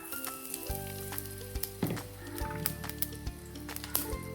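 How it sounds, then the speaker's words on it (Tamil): Mustard seeds and urad dal frying in hot oil for a South Indian tempering, a steady close sizzle with scattered sharp pops and crackles, alone with no talk. "எண்ணெய் சூடானதும் தாளிப்புக்கு கடுகு ஆட் பண்ணிக்கிறேன்"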